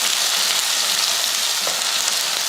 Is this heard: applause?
no